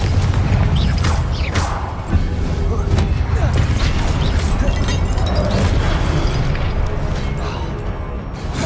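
Confringo explosive spell cast in Hogwarts Legacy, a loud continuous barrage of booming blasts and crashing bursts filling the whole stretch, with a voice talking over the chaos.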